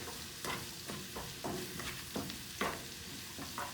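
Butter frying in a pan for salt and pepper shrimp gives a steady close sizzle, broken by several soft stirring scrapes at irregular intervals.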